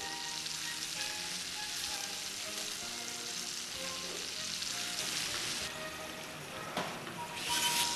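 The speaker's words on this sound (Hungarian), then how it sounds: "közben a mogyoróburgonyát frittóba megsütjük" Potato croquettes deep-frying in hot oil in a fryer give a steady, close, busy sizzle and crackle that runs unbroken throughout, with no voices.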